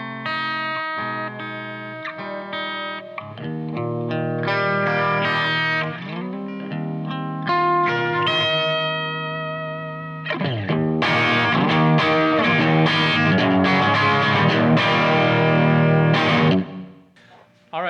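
Electric guitar played through a Kemper profile of a Fryette LX2 amp, distorted chords and picked phrases with chorus-like shimmer, loud and continuous with brief pauses between passages, no voices.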